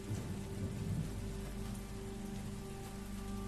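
Steady rain falling in The Walking Dead video game, a constant soft hiss of drops on surfaces with a low rumbling bed beneath, quiet and unbroken, no voices.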